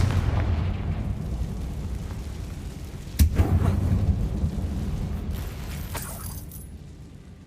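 A Confringo blasting spell explodes inside an abandoned mine in Hogwarts Legacy, a single heavy boom in the middle of the clip with crumbling debris after it over a low rumbling background.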